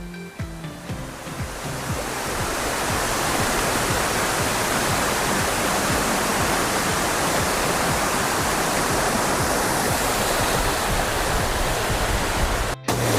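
Rani Duduma waterfall in south Odisha during the dry hot season roars as a steady, dense rush of falling water, rising from a softer start to a constant loud wash that ends abruptly.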